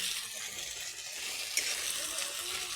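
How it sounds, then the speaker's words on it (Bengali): Green chili and coriander paste lightly frying in oil, a soft, steady sizzle with faint crackles, heard close and fairly quiet. "এগুলা দিয়ে কিন্তু তেলের মধ্যে ভেজে নিচ্ছি, হালকা ভেজে নিচ্ছি"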